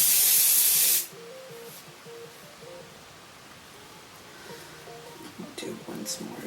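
Hairspray from an aerosol can hisses in one loud, steady burst over curly scene-style hair, lasting about a second, then quiet room tone follows with faint voice murmurs.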